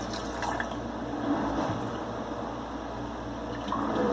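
Chicken veggie soup being poured into a canning jar before pressure canning, a steady liquid fill with soft splashing and dripping that runs continuously and close by, no voices over it.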